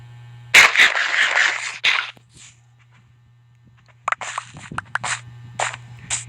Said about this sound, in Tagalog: At sumabog ang creeper.